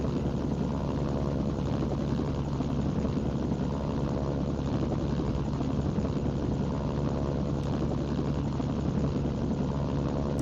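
KA-50 helicopter flying in a war video game, a continuous droning rotor and engine hum at steady loudness with no breaks.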